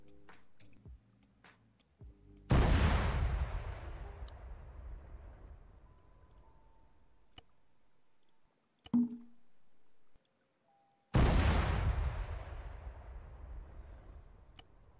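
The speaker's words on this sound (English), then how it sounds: "Yeah, you can hear the explosions." Artillery shells explode in the war game Arma 3, two loud, booming blasts with long rumbling decay, spaced well apart, plus a fainter sharp crack between them and soft clicks before the first.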